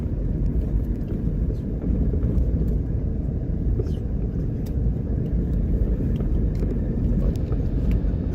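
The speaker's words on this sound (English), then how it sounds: "Okay, so we're driving into Spanish Town now." Steady low road rumble of a car driving into Spanish Town, Jamaica, a constant near drone of engine and tyres throughout with no clear voices.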